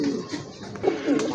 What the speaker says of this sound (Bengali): আরেক জোড়া কবুতর, গিয়াসুল্লি কবুতর, খুবই সুন্দর